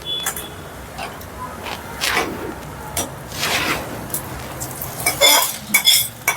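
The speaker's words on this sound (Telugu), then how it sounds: "ఇలా వేసుకొని అంతా కలుపుకుందాం." Fried rice is stirred into sweet rice payasam in a pot, giving repeated close scraping and clinking of a spoon against the pot in an uneven rhythm.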